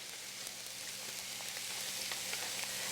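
Celery and onion sauteing in a pan on the stove, a soft, steady low sizzle with faint crackles, quiet and continuous with no voices.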